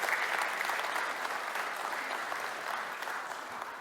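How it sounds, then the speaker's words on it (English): A seminar audience gives a round of applause, steady even clapping from a seated crowd, moderately distant and fairly quiet, tapering slightly toward the end. "Would you join me in giving a round of applause to George Goldman?"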